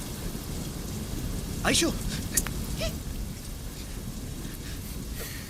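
Steady rain falls outdoors near a tree beside a parked car, a constant broadband patter, with brief voices calling out over it.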